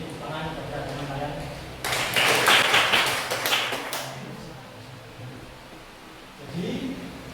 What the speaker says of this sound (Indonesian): ini tepuk tangan kepada teman kalian